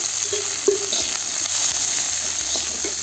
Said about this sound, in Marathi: आता भाजत आलेले आहे. तर त्यामध्ये मी थोडंसं तेल टाकते.